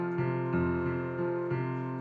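Piano left hand playing a bass line as a flowing arpeggio in a worship style, with sustained low notes and new broken-chord notes entering about every second, close and clear with no voices.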